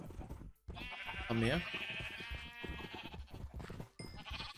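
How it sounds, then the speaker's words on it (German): A sheep bleats once in the Minecraft video game: a short, clear, wavering bleat in the first half, with someone talking in German before and after it. "Mäh, ihr Schafe."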